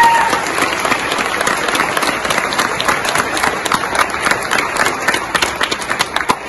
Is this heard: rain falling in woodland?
no